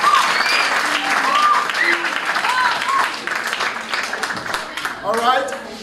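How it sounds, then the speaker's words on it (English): An audience claps for itself during a motivational speech, steady applause throughout with voices and cheers mixed in, and a few whoops near the end. "Just clap for yourself."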